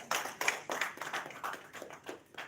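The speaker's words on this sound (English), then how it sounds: "a round of applause for yourself" Applause from a seated audience at a public-speaking master class for female MCs: a few quiet, rhythmic claps from a small group, fairly faint and close.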